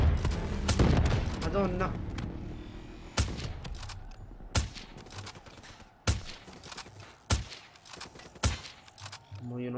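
Robots firing at the player in the Black Ops 3 video game: sharp bursts of gunfire, dense at first, then single loud shots spaced a second or so apart, with someone talking over the opening.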